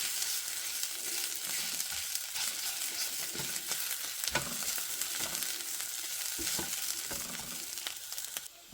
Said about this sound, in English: I'm going to go ahead and add the garlic in. And then just let that cook for a minute or so.